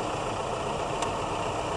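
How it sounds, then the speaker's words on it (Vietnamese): A 1998 Toyota Camry engine idles smoothly and evenly at close range, a steady low hum without surges, and no one speaks over it. "Máy nổ garanti rất êm"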